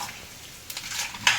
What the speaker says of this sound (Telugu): కాబట్టి ఈ పల్లీల్ని ఇలా వేసేసిన తర్వాత ఒకసారి ఇలా కలిపేసుకోవాలి.